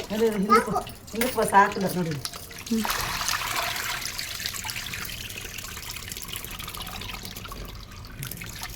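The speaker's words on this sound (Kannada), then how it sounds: "ರಾಗಿನ ಚೆನ್ನಾಗಿ ತೊಳಿಬೇಕು ನೋಡಿ." Ragi finger millet grains are washed in water in a kitchen, with a soft trickling and sloshing that continues at moderate volume after someone talks over the start.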